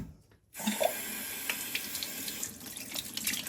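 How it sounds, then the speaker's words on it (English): Water from a freshly opened supply valve rushes through an open Kohler toilet fill valve, starting abruptly after a brief silence and continuing as a steady, moderately close hiss and splash. "reach down and turn on the water."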